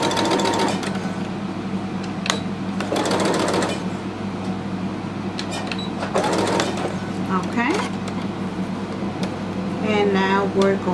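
A sewing machine stitches ribbon trim onto a tutu in short bursts, its busy rhythmic hum returning several times beneath a continuous voice talking over it.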